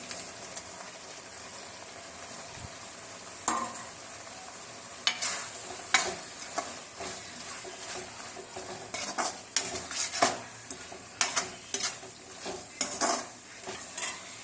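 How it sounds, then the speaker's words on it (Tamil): Okra is dropped into a simmering pan and stirred, a low bubbling sizzle broken by repeated sharp scrapes and taps of a spoon against the pan. "நம்ம வதக்கி வச்சிருக்கிற வெண்டைக்காயை அதில் போட்டு வதக்கிக்கலாம்"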